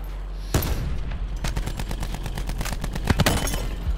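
Gunshots in a first-person shooter video game ring out as a string of loud, sharp cracks, single shots spaced apart, then a tight cluster of rapid shots near the end, with no talking.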